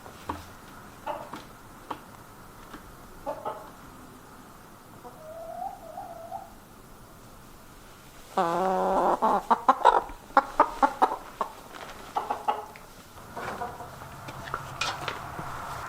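Bielefelder chickens clucking inside a large coop, scattered soft clucks early, then a close burst of rapid repeated clucks with light knocking sounds, easing off toward the end, no talk.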